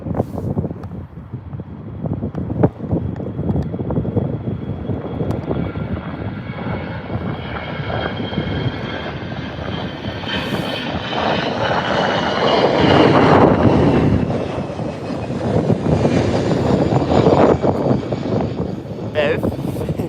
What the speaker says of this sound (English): And here's your EasyJet. Not wasting any time getting up there.